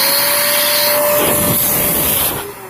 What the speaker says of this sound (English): I'll blow out these threads.